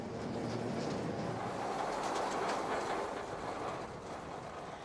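A Rhaetian Railway locomotive pushing a rotary snow plow up a mountain line in the Swiss Alps roars at full power with a steady, dense rumble and hiss that swells slightly midway, then eases a little toward the end.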